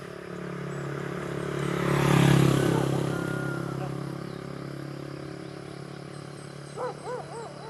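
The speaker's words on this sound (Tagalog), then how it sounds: "Na motor to eh. Motor." A motorcycle passes along a rural road near farmland, its engine swelling to a peak and then fading away, with a brief higher call near the end.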